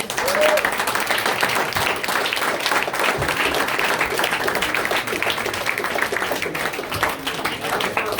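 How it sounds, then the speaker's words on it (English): An audience at a literary society debate gives a sustained round of loud applause, dense clapping that fills the room evenly, with faint voices mixed in. "Let's give our debaters a big round of applause."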